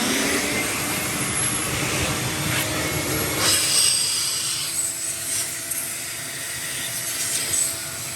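A vacuum cleaner pulls string through electrical conduit during an electrical rough-in, producing a steady, moderately loud rushing drone with faint rubbing and rattling, and no voices.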